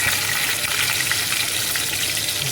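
Mustard seeds sizzle in hot oil at the start of a dried fish fry, a loud, close, continuous hiss of frying with no pauses.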